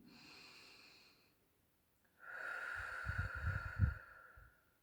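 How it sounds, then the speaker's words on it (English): A single deep breath drawn in, close and breathy, after a short airy exhale and a brief pause, with some low rumbling at the peak of the inhale and no speech. "Deep breath in."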